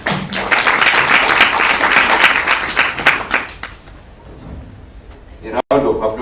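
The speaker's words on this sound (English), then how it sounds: "Thank you very much. A round of applause." Applause from the audience at a national youth indaba, broad sustained clapping from a crowd that tapers off midway, with a voice speaking over the tail end.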